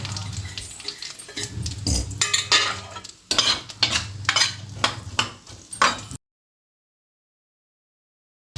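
Scraping and stirring in a hot pan with steady sizzling of onions frying in oil, close up with no talking, then it cuts to silence.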